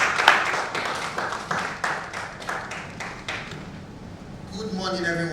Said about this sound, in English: Please clap again for him.